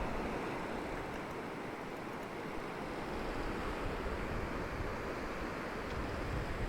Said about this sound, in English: Yeah, so the wind's picked up